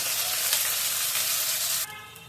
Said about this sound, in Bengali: প্রথমে আমি পেঁয়াজটা দিয়ে দিই, তাহলে পেঁয়াজটা একটু ভাজা হয়ে যাবে।